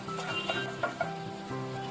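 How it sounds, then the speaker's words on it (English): Finely chopped garlic sizzles in a pan of hot extra virgin olive oil, a soft steady frying hiss with a few small pops and spatters, close and alone. "Add the finely chopped garlic. Fry for a few seconds"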